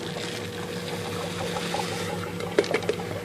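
An ice cream machine runs while M&M ice cream is being made, giving off a steady low mechanical hum with faint rattling and a few brief clunks near the end.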